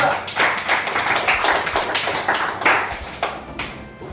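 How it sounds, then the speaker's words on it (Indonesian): A group receives a round of applause after their presentation in a classroom. The clapping is brisk, close and uneven, fades toward the end and has no voices over it. "Berikan aplaus untuk kelompok"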